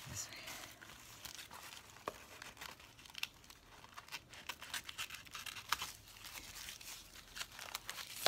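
Paper being trimmed for a handmade art journal page, a soft run of crinkly rustles and small snips close by, with light handling noise between cuts.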